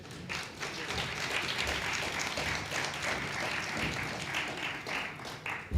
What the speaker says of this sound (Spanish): Que le vamos a dar un aplauso a Fede.